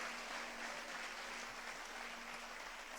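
A church congregation claps together after a call to praise the Lord, a faint, steady wash of applause heard from a distance with no speech over it.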